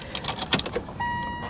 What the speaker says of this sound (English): I hear the fuel pump